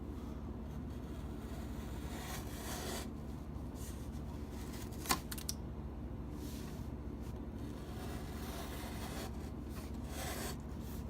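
A knife slicing through cardboard from a cracker box, with faint scraping, rubbing strokes under a steady low background hum and one sharper snap in the middle.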